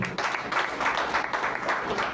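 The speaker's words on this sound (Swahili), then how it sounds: "Pigeni makofi." A church congregation at a Sunday Easter-season service claps together, a steady wash of applause that fills the whole stretch at moderate loudness.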